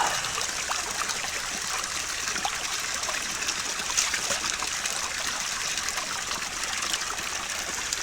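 A natural stream of very cold water in West Karbi Anglong, Assam, flows and trickles steadily and close by, a continuous bright babbling with no break and no voices.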